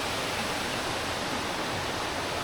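A waterfall rushes steadily close to a rainy-season riverside campsite in Kanchanaburi, a dense, even roar of falling water with no voices.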